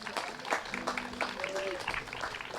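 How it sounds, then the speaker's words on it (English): Quiet applause patters in the background at a VE Day celebration while someone speaks over it. "Thank you for the round of applause"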